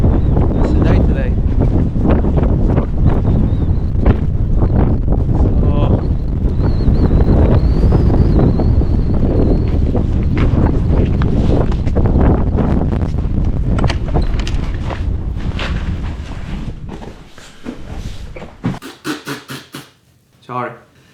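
Strong wind blasts across a snowy Arctic landscape in Finnmark during a winter camping trip, a loud roaring rush buffeting the microphone that eases toward the end into choppy gusts and handling noise.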